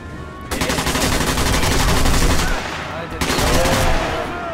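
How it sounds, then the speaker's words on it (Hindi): Rapid gunfire in Sniper Elite V2 Remastered, two loud sustained bursts of close shots separated by a short pause. "तो गलती से मुझसे गन चल चुकी है दोस्तों"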